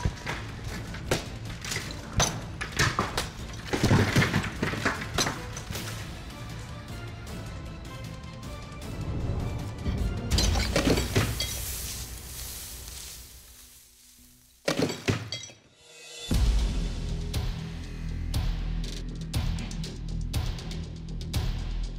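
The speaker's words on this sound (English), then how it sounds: "I'm going to take your Horseman's axes and repeatedly strike into these large blocks of ice" A hand-forged Horseman's axe is hacked repeatedly into large blocks of ice, producing a rapid series of loud thuds and cracking chips, with shattering bursts and a brief lull before the strikes resume.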